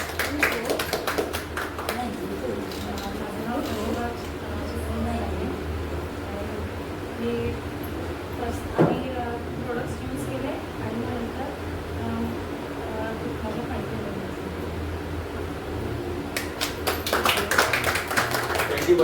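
An audience claps to welcome a woman at a company achievers' testimonial event. Scattered hand claps rise at the start and swell again near the end, with voices talking through the middle.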